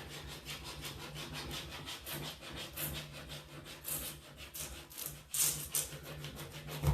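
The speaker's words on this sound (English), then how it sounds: "I've just got my wooden tool that comes with the transfer. And I'm going to start rubbing this on." A wooden tool rubbing over a gilding wax transfer sheet, a steady close scraping and rubbing texture with short repeated strokes throughout.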